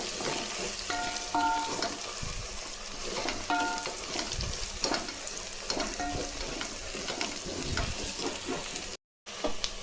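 Green chillies and garlic sizzle and crackle steadily in a hot pan for mutton biryani, with intermittent scraping and stirring throughout and a brief dropout near the end.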